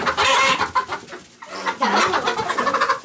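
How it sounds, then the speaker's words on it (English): A rooster crows loudly and close by in a backyard poultry coop, giving two strained, drawn-out calls with a short pause between them. "That sounds like the rooster."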